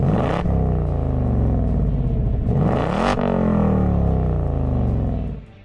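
A 2024 Ford Mustang GT coupe in loud sport exhaust mode gives a deep, close engine rumble that rises in two revving sweeps before dropping away at the end.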